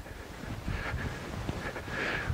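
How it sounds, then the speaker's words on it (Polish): Outdoor wind buffets a microphone during a Nordic walking warm-up, a steady low rumble with gusty swells rising and falling across the short stretch. "Trochę wieje wiatr, mam nadzieję, że po mikrofonie to nie daje"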